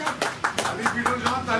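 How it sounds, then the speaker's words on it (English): Brief rhythmic clapping welcomes a guest at a book launch, with distinct, evenly spaced claps close by and a voice talking over them. "please welcome with a huge round of applause, Mr. Mahesh Bhatt."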